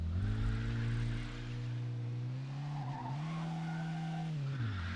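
Car tires squeal in a long, wavering skid as a vehicle drifts in Mafia II: Definitive Edition, the engine droning steadily underneath, loud and close with no talking.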